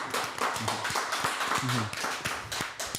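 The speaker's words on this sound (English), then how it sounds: "I'm gonna clap for that." A man claps his hands a few times during a barbershop-style interview conversation, sharp close claps mixed with talk.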